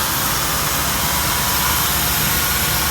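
A 1990s EK-generation Honda Civic with about 40,000 miles idles with a steady, unbroken drone and a faint hiss, like a small four-cylinder running rough from a vacuum leak, close by and with no talk over it.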